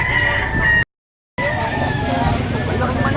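A rooster crows loudly and close at a busy poultry market, one long call cut by a short gap and then continuing, with crowd noise and passing engines behind it.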